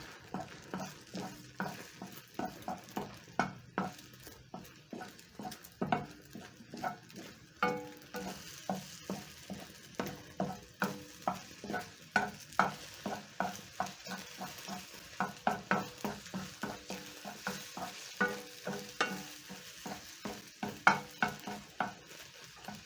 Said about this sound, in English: You're going to cook the eggs to your preference.